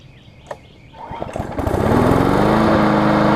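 A Murray lawn mower's small gasoline engine catching on the first pull after a couple of sputters, then settling into a loud, steady close-up running roar.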